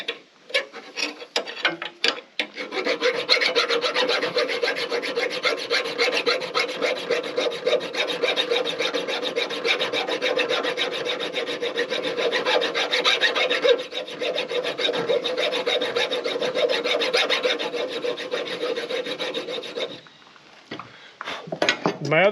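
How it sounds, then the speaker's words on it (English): Hand filing of a metal part on a Woodland Mills TFG55 PTO 5-inch wood chipper, with a steady close rasping stroke sustained for about seventeen seconds and a few light knocks at the start and end. "So I'm gonna file it just a little bit more."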